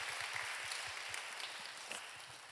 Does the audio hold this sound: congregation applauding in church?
yes